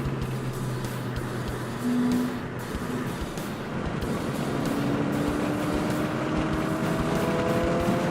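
A Ford Fiesta ST or Volkswagen GTI driven hard on a race track, its engine droning steadily with rising and falling revs and shifting pitch, loud and continuous from inside the car.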